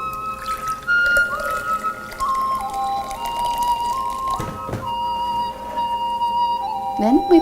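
Hot water at 80 degrees poured for green tea in a Chinese shrimp recipe, a thin trickling pour with faint whistling, ringing tones sliding downward, close and fairly loud.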